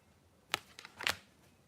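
Tarot cards being shuffled, a few quick papery riffling bursts close by, quiet and alone with no talk.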